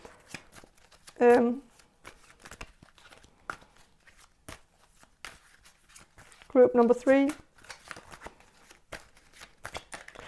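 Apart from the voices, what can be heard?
shuffling playing cards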